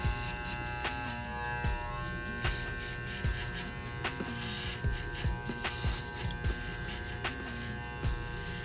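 Electric hair clippers buzz steadily while cleaning up hair at the bottom of a high skin fade guideline, a close, continuous motor hum with small bumps as the blades move through the hair.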